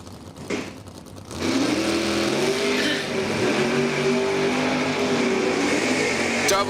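Eighth-mile drag race cars launch side by side down the lanes at a summer racing event, engines roaring loud and close in a sustained, rising blare after a brief quieter moment.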